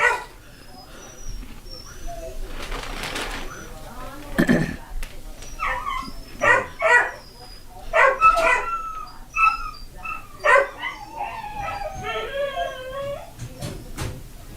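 Several noisy dogs bark, yip, whimper and howl in bursts, fairly close and loud, with people talking among the barking.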